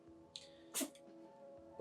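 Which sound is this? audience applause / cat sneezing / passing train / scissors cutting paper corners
cat sneezing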